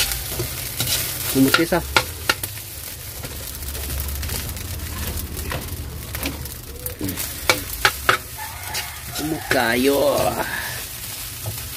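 Egg fried rice with onion and garlic fries in a pan with a continuous sizzle and repeated scraping stirs, while a person talks over the cooking.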